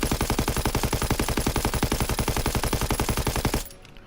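Rapid automatic gunfire at a firing range in Call of Duty WWII, a loud, even burst of evenly spaced shots lasting about three and a half seconds before cutting off abruptly.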